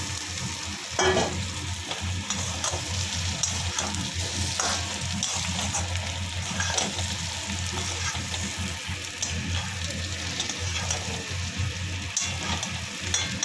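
Eggplant drops into hot oil already tempered with dried chilli, turmeric and fresh green chillies, giving a steady, close sizzle and stir-fry crackle with scraping stirs throughout and no talk.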